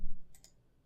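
Two quick, light computer mouse clicks, close and clean, used while editing a hoodie mockup in design software, following a soft low thump.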